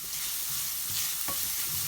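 Shallots sizzle and fry in a pan over pork chop fond while a utensil stirs and scrapes, a steady close crackle with a brief louder scrape partway through; no talking.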